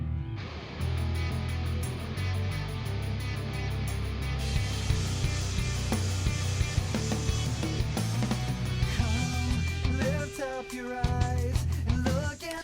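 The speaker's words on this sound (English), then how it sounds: "Got some tambourine here." Tambourine jingles sprinkle through a full studio song mix, light shimmering hits riding over steady bass, drums and layered instruments throughout.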